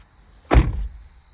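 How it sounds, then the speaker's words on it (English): A single solid thunk as the door of a 2024 Toyota Land Cruiser swings shut from inside the cabin, close and fairly loud, with a short low rumble fading afterward and no voices. "Let's close up the door."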